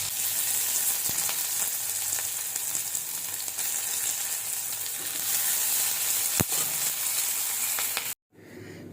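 Greens cooking as shak chorchori in a hot pan, a loud continuous sizzle and crackle with occasional clicks and stirring scrapes, cutting off abruptly near the end to a quieter room tone.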